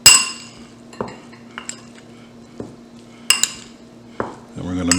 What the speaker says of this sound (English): And we're going to mix this up.